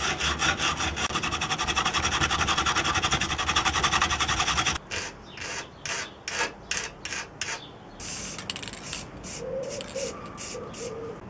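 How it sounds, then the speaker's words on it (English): A metal weaver rail being shortened by hand for a rifle foregrip: a continuous fast rasping stroke, then a run of separate, evenly spaced file or saw strokes, close and alone. "I have to shorten the weaver rail so it fits the foregrip better"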